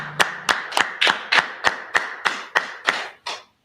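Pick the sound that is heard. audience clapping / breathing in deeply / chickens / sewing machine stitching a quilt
audience clapping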